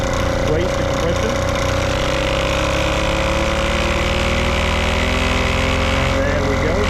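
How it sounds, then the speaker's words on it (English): A homemade all-wheel-drive bike runs its diesel and petrol engines together at full throttle, a loud, dense mechanical roar with a steady throb and a sustained whine, while a voice talks over it. "Full throttle on the petrol engine, full throttle on the diesel, raise the compression."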